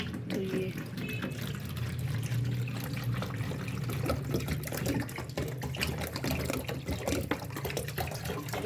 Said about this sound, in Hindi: इसमें डालते हैं पानी।